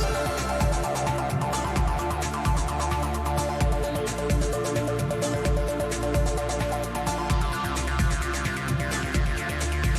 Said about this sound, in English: I made it with this just very basic acid sound from Serum